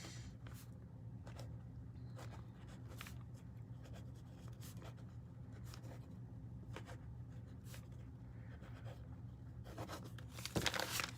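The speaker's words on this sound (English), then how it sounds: "I can write on over top of the collage" Pen scratching across paper laid over a cheap-paper collage, steady writing strokes in short repeated bursts over a low background hum, with a slightly louder rustle at the end.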